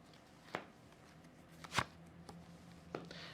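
Tarot cards are shuffled quietly, with a few soft riffling bursts and light taps spaced across a few seconds in a still room.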